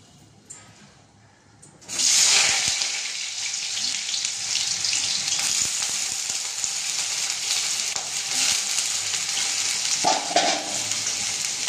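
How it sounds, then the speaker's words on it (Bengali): Potatoes and whole garam masala hit hot oil in a kadai, bursting into a loud, dense sizzle about two seconds in after a quiet start, then frying steadily with faint stirring clatter throughout. "তো আমি এবার এটা কড়া বসিয়েছি আলু ভাজার জন্য।"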